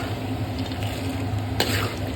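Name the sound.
roasted gram added to peanuts frying in a kadai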